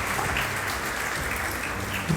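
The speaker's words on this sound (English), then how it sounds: "Let's give them a round of applause." Steady applause from a crowd at a high school competition, dense continuous clapping at an even level throughout, with no voices standing out.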